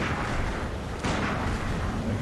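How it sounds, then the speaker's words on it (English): A single gunshot fired in Bloodborne at an old man, one muffled boom about midway through a dense, steady background rumble of game ambience, with no talk. "I just like to shoot him."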